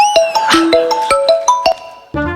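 A bright melodic phone ringtone plays loudly, a quick run of plucked tones rising and falling, then cutting off into a short burst of noise.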